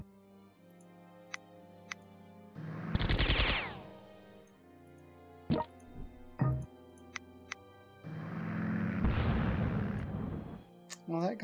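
Artillery fire and explosions in the WW2 strategy game Glory of Generals 3 on a 1944 Western Front map: two long roaring booms with sharp cracks and ticks between them, set over a steady game music bed.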